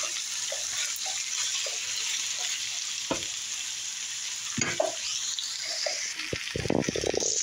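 Ingredients browning together in a hot pan make a steady close sizzle, with a few stirring scrapes and clinks of a utensil against the pan, and no one talking.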